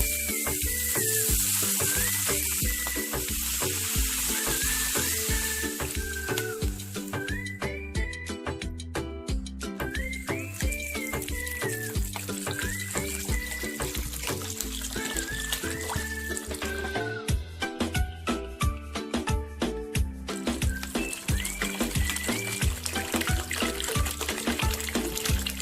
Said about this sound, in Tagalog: Maglalagay po tayo ng sabaw.